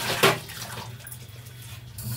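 Water runs from a tap into a sink while dishes are washed, with a splashy burst at the start, then a softer steady flow and faint clinks, close and moderate in level.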